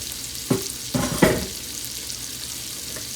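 Pickled pork sizzles softly in a pan for Louisiana-style green beans, a steady low hiss broken by a few quick clattering stirs early on.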